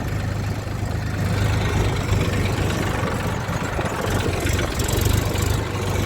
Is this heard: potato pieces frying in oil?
no